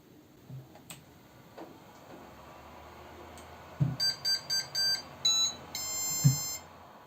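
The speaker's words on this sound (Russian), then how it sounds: "Давайте проверим, насколько бесшумным сделали наш принтер." A TRONXY XY2PRO 3D printer, upgraded with an NF-WIND V6 direct extruder and running Marlin 2 firmware, runs quietly with its fans on: a low, steady hum, a few soft clicks, then a run of short electronic beeps near the end.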